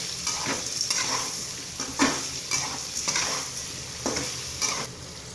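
Elephant foot yam pieces with salt and turmeric sautéing in a pan for a tamarind curry, a soft sizzle broken by repeated spoon scrapes and stirring strokes at an uneven rhythm, close and without speech.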